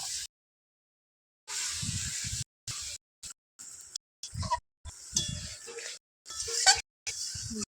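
Pointed gourd and prawns stirred in a pan, giving short bursts of hissing sizzle and scraping broken by abrupt silent gaps.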